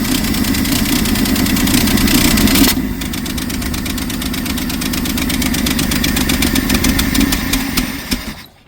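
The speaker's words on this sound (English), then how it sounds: "Got a bad misfire in it." A 1962 Studebaker Lark engine running with a bad misfire, loud and close, a steady uneven idle with a brief shift in tone partway through before the engine cuts out near the end.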